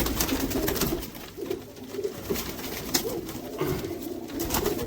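Soft, low cooing of pigeons repeats throughout, with flutters and background rustling; the birds sound close but not loud.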